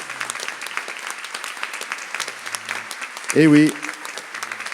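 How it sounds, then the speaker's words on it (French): Audience clapping for Radio Maria volunteers in a French gathering, brisk scattered claps throughout, with someone speaking over them and a brief louder vocal burst near the end. "On peut les applaudir."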